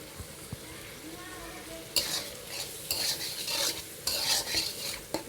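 Curry with potato and jackfruit being stir-fried in a pan makes a low sizzle, broken by bursts of scraping and stirring with a utensil against the metal, fairly close.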